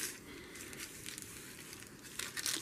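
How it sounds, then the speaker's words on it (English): Scissors cutting a polyester batting sheet to size give a steady soft crinkling, rustling texture with a few sharper snips near the end, close and fairly quiet. "I'll just cut this down to size."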